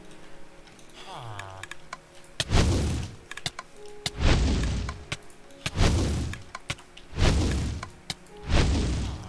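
Level 1 fire arc firebending attacks in the Minecraft Avatar mod, four evenly spaced whooshing bursts, each loud and lasting about a second, with keyboard clicks and soft thuds in between.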